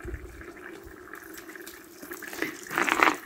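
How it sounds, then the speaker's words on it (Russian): Water is poured into a cooking pot outdoors while plov is being prepared, a soft trickling splash that swells louder toward the end against quiet ambient noise. "Воду нальем сейчас."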